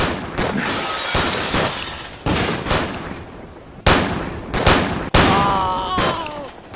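Gunfire in a tabletop game trailer: several loud, sharp bursts of rapid shots crack out in quick clusters, separated by brief gaps, with faint whistling overtones between volleys.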